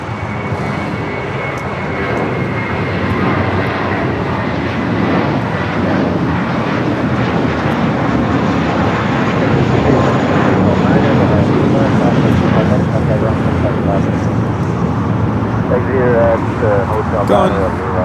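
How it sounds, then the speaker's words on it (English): A JetBlue airliner lands on runway 25 right at LAX, its steady jet roar and rush filling the air for the whole stretch, loud and continuous, while a person talks over it. "Blue across 25 right. The JetBlue just landed here."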